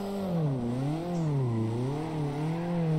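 A car engine in the CarX racing game revs repeatedly in smooth waves, its pitch rising and falling steadily at moderate volume with no one talking.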